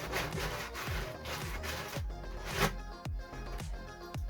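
The cut edge of a 5-gallon plastic bucket is smoothed with a repeated scraping stroke, about eight rhythmic rasping passes, close and fairly quiet.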